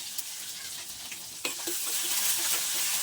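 Shallots drop into hot oil in a pan, and a soft hiss swells into a louder, steady sizzle after a brief clatter partway through.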